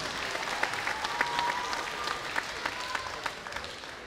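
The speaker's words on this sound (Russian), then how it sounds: "Ваши аплодисменты." An audience at a concert claps steadily, a dense patter of many hands at moderate volume, with a faint tone lingering underneath.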